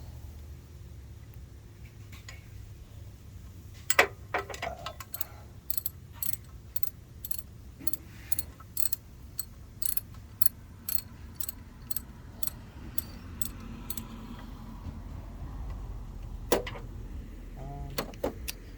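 A ratchet socket wrench clicks through a run of short, sharp ratcheting strokes, close up, in bursts over a low steady background hum, with a pause before a final couple of clicks.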